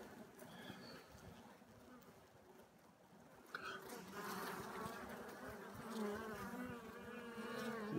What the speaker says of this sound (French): je souffle pour écarter les abeilles.